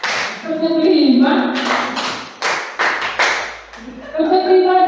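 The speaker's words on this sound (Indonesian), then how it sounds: "Tepuk tangan untuk kita semua" A group clapping game, with rhythmic bursts of hand claps rising between stretches of speech, led by a teacher's voice with children joining in.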